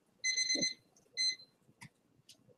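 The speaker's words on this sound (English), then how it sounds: "we listen to that timer, don't we?" An electronic timer alarm sounds at a candidate forum: a loud burst of rapid high beeps, a shorter second burst, then two faint clicks in an otherwise quiet room.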